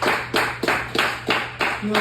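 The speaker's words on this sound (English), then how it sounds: "let's just clap real loud as we can," Crowd claps loudly in unison, a heavy rhythmic series of about seven synchronized claps at a steady beat with a low hum underneath.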